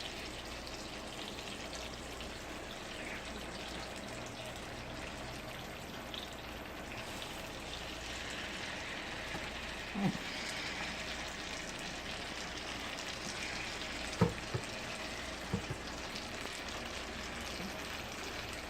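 Grits patties fry in butter and olive oil on a stove at medium heat, a soft continuous sizzle with faint crackles and a few small pops, quiet and close.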